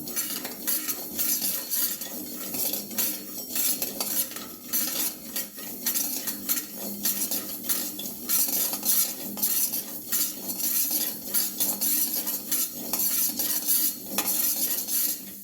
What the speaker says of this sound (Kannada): ಬಾಣಲೆಗೆ ಸಾಸಿವೆಯನ್ನು ಹಾಕಿಕೊಂಡಿದ್ದೇನೆ. ಇದನ್ನು ಮೀಡಿಯಮ್ ಉರಿಯಲ್ಲಿ ಡ್ರೈ ರೋಸ್ಟ್ ಮಾಡಿಕೊಳ್ಳುವ.